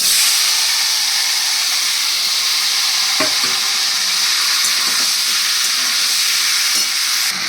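Banana pieces hit hot oil with fried cardamom, producing a loud, continuous sizzle and steamy hiss that stays strong throughout, with occasional faint stirring knocks.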